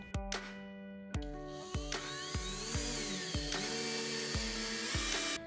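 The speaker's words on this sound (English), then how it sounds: "Place it on the wall and screw in one side." A power drill drives a screw to mount a floating shelf on a wall, with close, repeated short whirring bursts and clicks as the bit catches and spins, with no talk.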